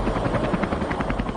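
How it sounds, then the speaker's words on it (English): A Bell XH-40 Huey combat helicopter from 1962 drones close by with a steady, fast rotor thump beating over engine noise, loud and without talk. "a combat helicopter, the Bell XH-40, first went into the front line of battle"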